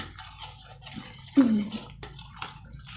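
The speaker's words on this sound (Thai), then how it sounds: "เดี๋ยวจะใส่น้ำพริกลงไปเนาะ ผัดน้ำพริกนะผัดน้ำพริกก่อน" Curry chili paste is stir-fried in a pot for a Thai chicken and eggplant curry, with quiet scraping stirs and one louder scrape of the utensil against the pot.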